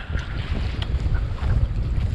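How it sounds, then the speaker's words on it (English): Strong wind of about 35 knots roars continuously against the microphone, a heavy low rumble with gusting texture and a hint of water splashing beneath. "It's blowing about 35 knots right now."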